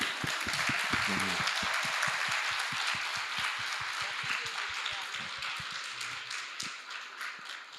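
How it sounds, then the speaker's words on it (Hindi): An audience at a talk on karma claps in a lively, dense burst of applause that thins and softens toward the end. "तो अगर आप में से कोई ऐसे हैं तो अपने लिए एक जोरदार तालियां।"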